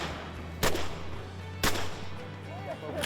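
Two sharp shotgun blasts about a second apart during a duck hunt, each a loud crack with a brief tail, over a steady low outdoor hum.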